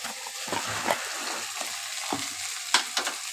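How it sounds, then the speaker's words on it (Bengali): Jute leaf greens (pat shak) with salt and turmeric stirred in a pan, a steady soft sizzle with scattered scraping clicks from the spoon, close and moderately quiet, no talking. "এবার আবার একটুখানি নাড়াচাড়া করে নিচ্ছি"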